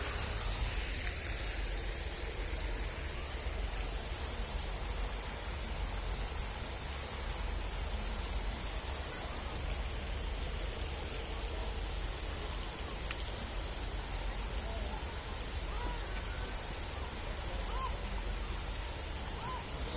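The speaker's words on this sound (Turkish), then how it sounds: "Şelalenin su sesi" Waterfall in Emirgan Grove, a park in Istanbul, rushes in a steady, dense wash of falling water that stays even and close throughout, with no voices over it.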